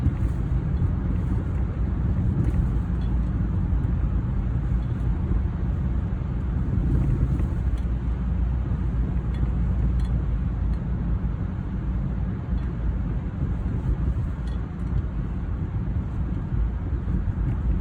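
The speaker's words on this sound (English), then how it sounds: "That's why I hate driving when the road is so wet" A car drives on a wet road, making a steady, loud, continuous hiss of tires and road spray that stays even from start to finish, with no talking.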